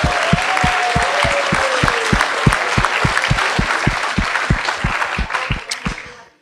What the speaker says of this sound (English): So if we could clap.